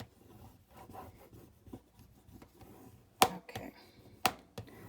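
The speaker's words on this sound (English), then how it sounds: "So we're just wrapping our chipboard and giving it a good burnish all the way around." Paper-wrapped chipboard being burnished by hand, soft rubbing strokes at close range with a few sharp, louder scrapes near the end.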